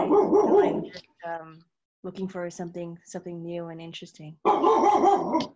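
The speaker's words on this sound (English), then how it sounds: "Sorry, that was my dog." A dog barks a few times in short yips in the background while a person speaks, with sharp bursts at the start and end.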